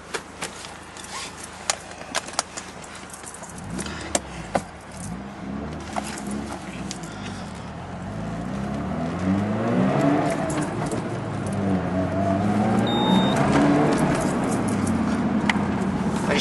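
A black turbocharged Mazda RX-7 Series 8 pulls away down a road, its engine note climbing and sweeping steadily louder as it accelerates, with lighter knocks and rustles at the start.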